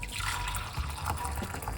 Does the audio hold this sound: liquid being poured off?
yes